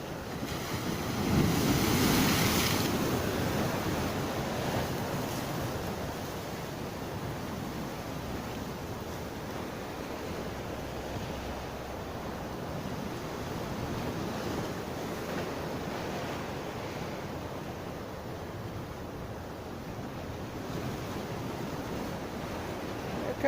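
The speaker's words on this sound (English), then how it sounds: "Waves are pretty tall." Waves breaking on a foggy Gulf shore, a steady broadband surf wash with a louder surge near the start, mixed with wind buffeting the microphone, close and continuous without talk.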